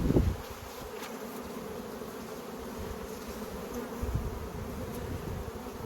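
Steady, dense buzzing of many honeybees around a hive close by, a continuous droning hum that swells slightly now and then, with no voices.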